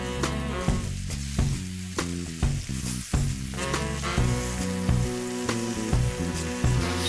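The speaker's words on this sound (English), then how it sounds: "Now that the oil is medium hot, let's start frying these chicken pieces." Chicken pieces sizzle loudly as they pan fry in medium hot oil, a dense steady crackle broken by sharp spits and the scrape of stirring.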